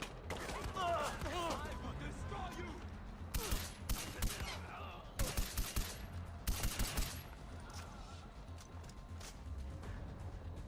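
Gunfire in Far Cry 4 comes as clusters of sharp, loud rifle shots and short bursts in the first seven seconds, followed by quieter background rumble, with voices talking over part of it.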